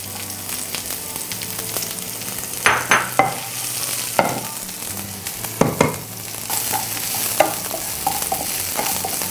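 Shallots fry in coconut oil with popped mustard seeds, a steady low sizzle broken by occasional clacks and scrapes of stirring, close and without speech.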